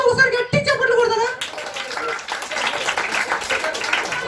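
Children at a Christmas puppet show clap hard together, a dense burst of applause that follows a brief stretch of adult talk and keeps going loud and steady to the end.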